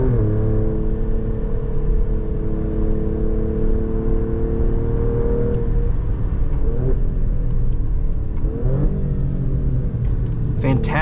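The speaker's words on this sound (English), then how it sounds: "Fantastic response time from this 8-speed automatic, and effortless shifts, very smooth, you can't feel them, but you can hear them" Engine of a 2024 Alfa Romeo Quadrifoglio on a track, droning steadily at high revs with rising tones that break at gear changes from the 8-speed automatic, near and loud throughout, overlaid by a voice talking.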